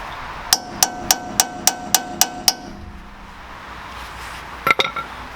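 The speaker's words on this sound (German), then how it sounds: "nehmen wir uns einen Körner und schlagen hier die Sicherung wieder ein" A hammer drives a centre punch to stake the front wheel hub nut on a Mazda MX-5 during a wheel bearing change. Eight even, ringing metallic strikes land in quick rhythm, followed after a pause by a short cluster of clanks, close up.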